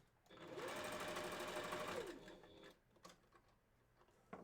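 A sewing machine stitches the eye of a wolf fursuit head in one steady, close, loud burst of about two seconds, then stops, leaving faint handling clicks and quiet shuffling.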